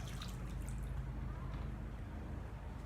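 Hot water pours and drips over a corroded car battery, a soft continuous trickle under a low, steady background rumble.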